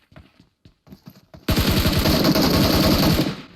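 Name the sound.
gunfire from a video game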